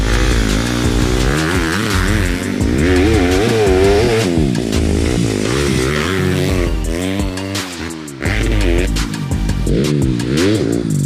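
A loud 250cc four-stroke enduro motorcycle engine with an Akrapovic exhaust revving hard up and down in rapid bursts, close by and continuous, harsh and raspy with no voices.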